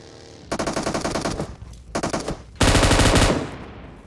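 Loud, close bursts of M249 machine gun fire in a shooting video game: a rapid rattling volley, a short pause, a brief burst, then a denser sustained stream of shots.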